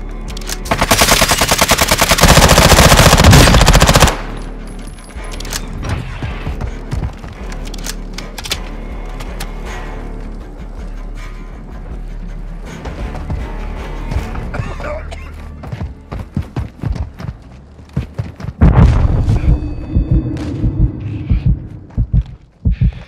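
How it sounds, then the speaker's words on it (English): Gunfire in the video game Warzone 2.0 on PS5, opening with a loud, dense burst of automatic fire, followed by scattered shots and game sounds, then another heavy burst near the end. "They're shooting at me!"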